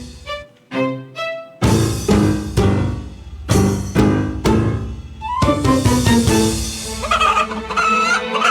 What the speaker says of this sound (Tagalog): Daghan na kanimong mga manok!